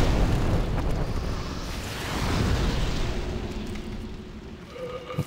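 A blast set off to blow up a creature in Demon's Souls, a heavy rumbling explosion with a booming wash that swells and slowly fades into a faint tail, with no talk.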